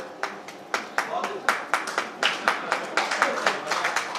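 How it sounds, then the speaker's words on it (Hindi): Audience clapping at a Golden Jubilee celebration with literary figures present: a run of crisp, evenly spaced claps in a steady rhythm, close and distinct, with a faint murmur of room noise underneath. "जितने अनुपात में तालियां बज रही हैं"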